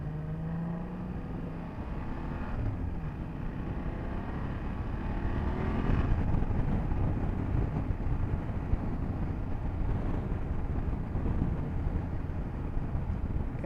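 A 2024 BMW F 800 GS motorcycle on the road, its engine rumbling steadily at cruising speed under buffeting wind noise, with a rise in engine note partway through.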